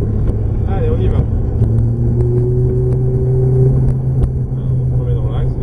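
A Ferrari F430 on a track rumbles with a steady, loud engine drone that climbs gradually in pitch as it accelerates, heard from inside the car while a person speaks over it.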